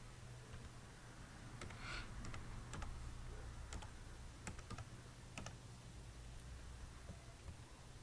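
Numbers are typed into an Excel spreadsheet on a computer keyboard: sparse, irregular keystroke clicks, faint and close, over a quiet background hiss with no speech.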